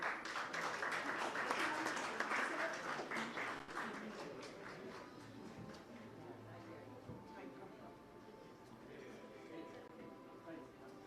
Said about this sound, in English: Congratulations to Srijan, and let's have a big round of applause.